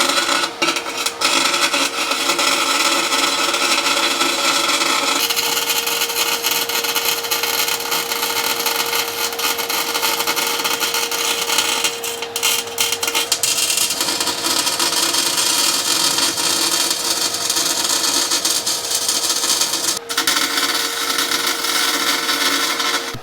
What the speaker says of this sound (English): she's just gonna heat her up and lay some beads